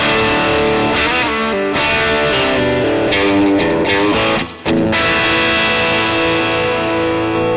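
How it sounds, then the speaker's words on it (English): Electric guitar played through an amp with a mid-gain distortion pedal setting, captured on a Mooer GS1000; a sustained chorded riff with ringing, gritty harmonics and brief note changes, loud and close with no talking. "So it is like a mid-gain distortion sound."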